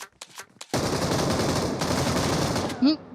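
Rapid automatic gunfire in the mobile shooter PUBG Mobile, beginning after a few short bursts and then running as a long, loud continuous volley, with a voice briefly exclaiming near the end.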